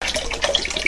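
Consecrated holy water is poured into a container, a close, continuous splashing trickle with small bright gurgles, heard alone without speech.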